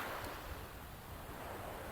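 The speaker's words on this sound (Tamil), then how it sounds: "இங்கிருந்து தண்ணி வந்து இங்கே கொப்பளிக்குது" Sea waves surge and wash against the shore in a steady, continuous roar, with broad churning water noise and a little wind, close and fairly loud, with no voices.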